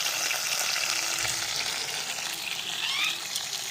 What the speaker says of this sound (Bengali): মাছগুলো আমরা চলো সব ভাজা করে নিচ্ছি